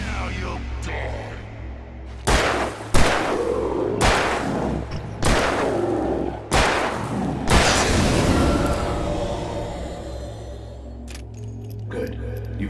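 Gunfire in the video game Alan Wake: five or six loud, close shots spaced about a second apart over a low rumbling drone, then the action settles into a quieter, ringing tail.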